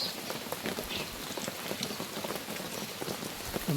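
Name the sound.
monsoon rain falling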